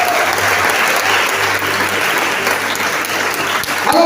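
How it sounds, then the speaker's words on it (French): A church congregation applauds during a session, a dense, sustained wash of clapping that stays at an even level from start to finish. "Donne-lui des acclamations que nous sommes."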